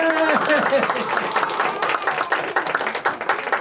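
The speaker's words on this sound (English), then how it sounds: "everybody clap your hands and go, yay!" Children clapping and cheering yay at a kids' show, a burst of shouting voices followed by a lively patter of many small hands clapping that gradually thins out.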